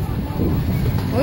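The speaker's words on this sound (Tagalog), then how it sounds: "Uy, ang sarap dito, hangin." Wind rushes and buffets the microphone outdoors, a steady low roar filling the whole short moment with no clear speech over it.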